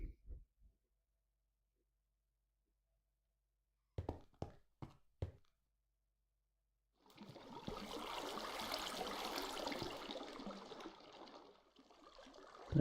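Water being placed and flowing in Minecraft: after a few short clicks and taps, a loud, close rushing stream starts up and pours steadily, then tapers slightly at the end.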